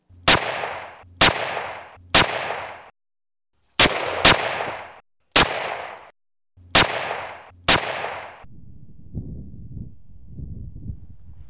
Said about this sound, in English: Shooting erupted on both sides.